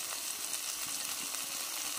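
Sprouted moth beans fry in an oily onion-coconut masala, giving a faint, steady, close sizzle with soft crackling throughout and no voices.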